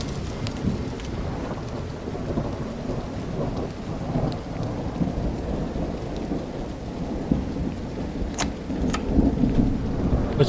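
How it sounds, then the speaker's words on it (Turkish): Steady rain pours in the horror video game The Beggar, with heavy rumbling thunder rolling beneath a constant hiss of falling water. "Yağmur."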